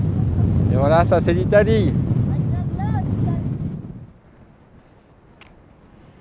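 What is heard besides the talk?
strong mountain wind blowing into microphone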